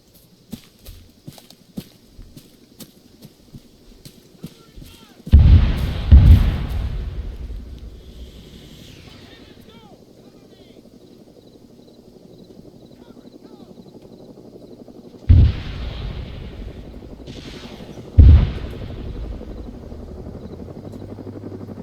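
Artillery shells striking a tank in the war video game Cold War Rearmed III: three heavy, low booms with rumbling tails, one early and two close together later, over a steady background hum.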